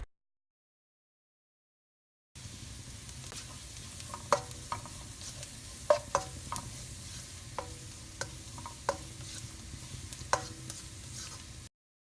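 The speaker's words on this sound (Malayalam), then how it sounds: "നീളത്തിൽ അരിഞ്ഞു വെച്ചിരിക്കുന്ന ഒരു വലിയ സവാള അതിലേക്ക് ഇട്ടിട്ട് അതും നന്നായിട്ടൊന്ന് വഴറ്റണം" Sliced onion sautéing in a pan with a low steady sizzle, broken by a series of sharp scraping and clinking stirs from a utensil against the pan, close and without talk.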